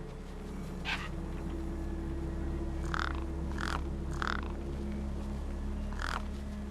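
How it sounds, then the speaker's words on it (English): Crows caw over a feast in the video game Beyond a Steel Sky, several harsh calls at irregular intervals above a steady low ambient hum. "No way I was going to get between those birds and their feast."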